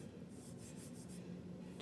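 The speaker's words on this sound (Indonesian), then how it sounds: "di gerinda pakai kikir kayu, bukan kikir besi ya" A wood rasp files a European beech wood shoe tree in a series of quick, soft, rhythmic scraping strokes, faint and close, with no talking.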